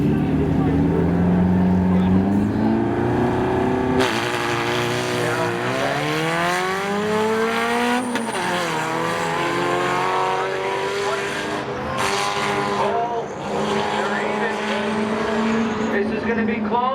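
Drag-racing cars at Seekonk Speedway, a 1991 Nissan NX and a Camaro, rev hard with rising engine pitch through several gear changes, loud and close throughout, while an announcer talks over the roar.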